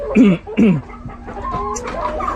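Six hens crowded into a cramped cage let out a few loud, close clucks and squawks, followed by softer low cackling.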